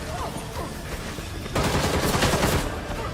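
Shotgun gunfire in the video game Gotham Knights, a dense burst of loud blasts erupting after a quieter stretch and rattling on for the rest of the moment.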